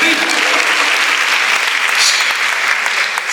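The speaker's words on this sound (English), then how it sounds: "Let's give a big round of applause to you guys" Loud, sustained audience applause fills the hall at a wellness session hosted by FLO Chennai, a dense continuous clatter of many hands that stays even throughout.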